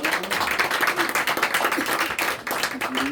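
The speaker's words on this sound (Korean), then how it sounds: "우리 하나님께 영광의 박수 올려드리겠습니다." A church congregation at a Sunday morning service breaks into dense, continuous applause, many hands clapping together at close range for a few seconds.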